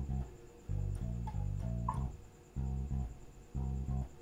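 Bass guitar plays a blues shuffle groove, repeating short bursts of low, even notes in a loping rhythm with brief gaps between phrases, close and clear with no talking.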